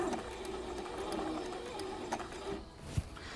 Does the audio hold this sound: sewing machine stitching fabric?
yes